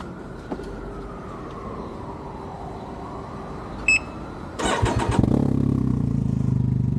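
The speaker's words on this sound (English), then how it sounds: "I'm gonna start the bike. Let y'all hear how it sounds right quick." A Can-Am Ryker three-wheeled motorcycle engine cranks briefly after a short beep, then catches and settles into a steady, close idle rumble.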